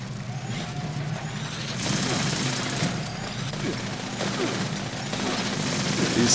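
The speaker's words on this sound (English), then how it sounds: "These turrets are real fucking deadly." Turrets fire in Fallout 76, a constant rattle of automatic gunfire over a loud mechanical background, rising partway through.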